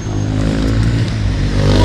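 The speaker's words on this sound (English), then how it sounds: "Look, more scooters." A continuous engine drone with a steady hum, like motorized scooters or motorbikes going by on a street nearby.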